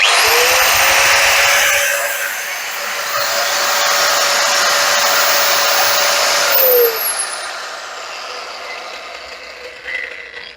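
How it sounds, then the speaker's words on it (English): An angle grinder runs on an Oukitel portable power station, a loud steady high whine that holds for several seconds, then winds down with a falling pitch as it spins to a stop, leaving quiet background. "to see how long I can use an angle grinder if I did buy one of these units"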